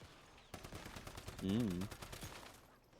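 Gunfire and explosions in the survival shooter Once Human, with a burst of sharp shots and a louder blast swelling mid-clip, set against a game character's strained vocal cry.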